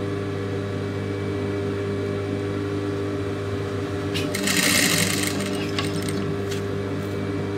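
Close, steady whirring of a tailor's sewing machine stitching a lace-trimmed blouse neckline, running continuously throughout with a brief brighter rattle near the end and no clear talk over it.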